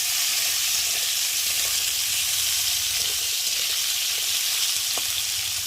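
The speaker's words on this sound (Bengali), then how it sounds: "এখন গাজর আর আলুটা দিয়ে ভালো করে ভেজে নেব" Carrots and potatoes frying in a pan over tempered spices, a loud, constant hissing sizzle that holds steady throughout with faint scraping of stirring.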